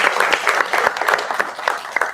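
An indoor audience applauds in a dense, steady burst of many hands clapping, loud and close, with a faint voice underneath.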